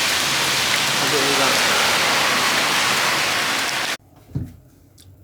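Steady heavy rain pours loudly for about four seconds during a flood in Manila, then cuts off abruptly, followed by a brief spoken remark over quiet background.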